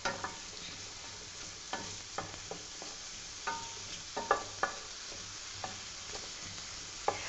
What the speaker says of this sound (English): you can see the mushrooms are starting to get a little bit more brown